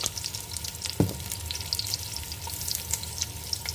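Spices and onion frying in a pan, a close, steady sizzle and crackle with a clink of a utensil stirring partway through.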